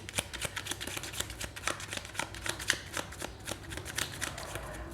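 Tarot cards being shuffled by hand, a steady run of close crisp riffling and flicking snaps repeating throughout with no talk over them.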